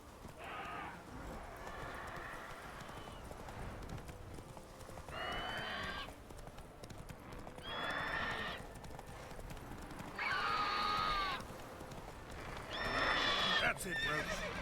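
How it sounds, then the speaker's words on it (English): A horse in The Witcher 3 gives several loud, shrill neighs at intervals over steady clip-clopping hooves, while someone talks at times. "Alors mon cheval est où?"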